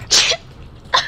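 A person sneezes close to the microphone, a sharp loud burst followed by a shorter second sneeze, during a Division 2 gaming session.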